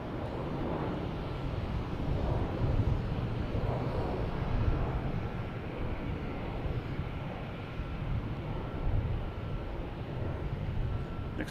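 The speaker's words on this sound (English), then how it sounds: "Gulfstream takeoff heading to Teterboro." Gulfstream business jet taking off from Boston Logan Airport, bound for Teterboro: a steady, loud, broadband engine roar that holds without a break for the whole stretch, with no one speaking over it.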